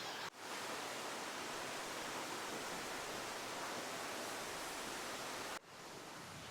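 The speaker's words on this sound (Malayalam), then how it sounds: "നമ്മൾ നല്ല വലിയൊരു വെള്ളച്ചാട്ടമാണ്" A large waterfall on the Agasthyarkoodam trek gives a dense, loud, continuous roar, broken only by two brief dropouts near the start and end.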